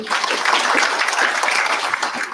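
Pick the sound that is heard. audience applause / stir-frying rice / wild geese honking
audience applause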